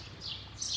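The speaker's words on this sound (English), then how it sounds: "I like to just hear these birds in Tamarat singing to me" Birds singing by the sea in Tamarat, Morocco: two short, faint high chirps in quick succession over a soft background hush.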